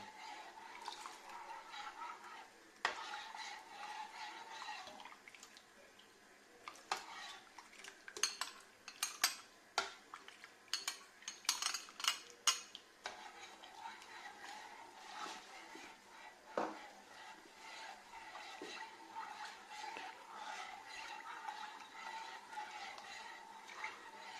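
A utensil stirs agar-agar orchid nutrient medium in a pot, giving repeated metallic scrapes and clinks against the pot, clustered in a busier burst midway, close and fairly quiet over a faint bubbling background.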